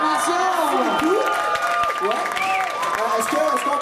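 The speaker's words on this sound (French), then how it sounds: "Une bonne acclamation!" School audience cheering and applauding at a secondary-school talent show, loud sustained clapping mixed with shouts, whoops and high children's voices filling the room.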